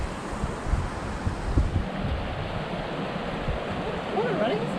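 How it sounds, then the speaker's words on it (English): Creek water swollen by recent rain rushes past in a steady, broad wash, with gusts of wind buffeting the microphone now and then. "we can see the waters flowing down the creek"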